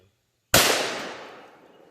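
A single sharp, loud report from a 5.7x28 round fired out of a carbine into ballistic gel, with an abrupt crack followed by a reverberant tail that fades over about a second and a half.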